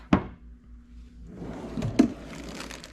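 A drawer in an art room cabinet slides open with a sharp knock, then rumbles and ends with another bump, close and moderately loud.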